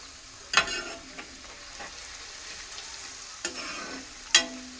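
Ingredients for a homemade hair oil, now turned green, frying in a pan of oil, a faint steady sizzle with a few distinct scraping stirs and clicks spaced out over several seconds, close by and without speech.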